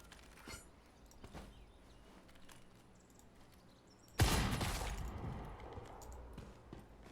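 A single in-game gunshot lands as a headshot in a shooter, a sudden loud blast with a lingering tail, rising over faint keyboard clicks and quiet background game noise.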